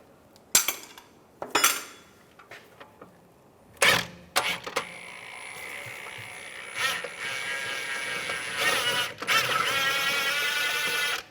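Wrench turning a nut off a rear control arm bolt on a 2004-2010 BMW X3, sharp metallic clanks and taps followed by a stretch of rapid ratcheting clicks, close up with no talking.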